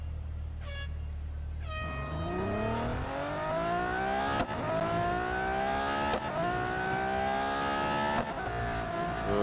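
A race car engine revs hard and climbs through the gears during a quick autocross run in Real Racing 3, loud and continuous with rising pitch and brief dips at the shifts.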